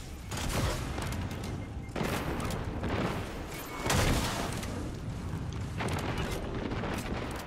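Repeated heavy blasts of rocket launcher fire against a boss in a Destiny 2 Lost Sector, Exodus Garden, several loud booming bursts over constant in-game combat noise.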